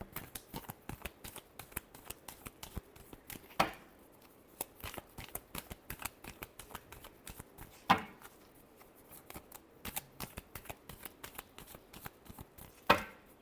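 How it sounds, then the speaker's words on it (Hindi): Tarot cards being shuffled in a steady run of quick riffling flicks and soft slaps, close and fairly quiet, with a few sharper card snaps standing out along the way and no talking. "last shuffle"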